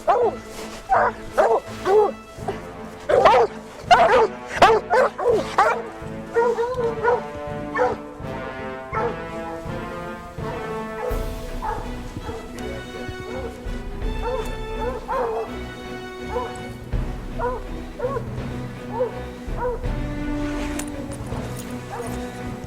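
Hunting dogs on a fresh mountain lion track in the Colorado mountains bark, yip and whimper excitedly, a run of sharp close calls giving way to layered baying over a steady outdoor background.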